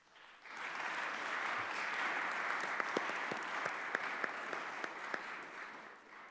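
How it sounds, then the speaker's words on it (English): Audience applause at a congressional roundtable, starting after a brief quiet moment and holding steady as a broad wash of clapping, with a few sharper individual claps standing out later. "give a round of applause to these incredibly courageous students"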